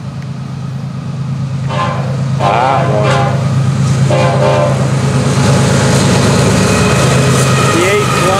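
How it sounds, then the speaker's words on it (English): A freight train rolls past on the Florida East Coast line on a summer evening, led by two locomotives, its steady loud rumble and rolling rail noise continuing throughout while someone talks briefly over it. "Oh, here's a train for you."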